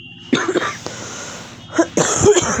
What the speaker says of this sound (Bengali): সরি কাশি হয়েছে প্রচণ্ড গো বন্ধুরা